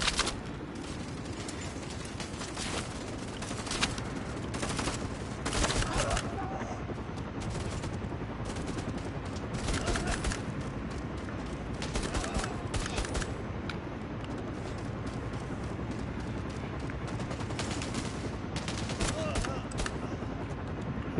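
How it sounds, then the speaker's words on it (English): A big, heavy-looking gun fires in the PlayStation VR shooter Bravo Team, loud bursts of rapid gunfire that repeat steadily across the whole stretch, with a busy sustained rumble and no clear pauses. "It's just very satisfying shooting people with this gun."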